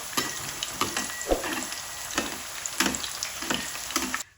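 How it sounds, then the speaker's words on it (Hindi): Onions coated in gram flour batter fry over low heat, a close, steady sizzle punctuated by several sharp spatula scrapes and taps before the sound cuts off. "इनको हल्की आंच पे पकने देते हैं कि प्याज अंदर तक पक जाए"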